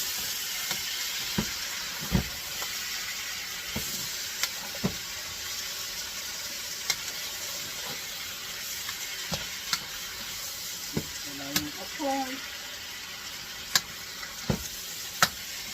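Pork belly and basil frying in a pan while being stirred, a steady sizzle running throughout with sharp clicks of the utensil against the pan at intervals and a brief bubbling burst near the end.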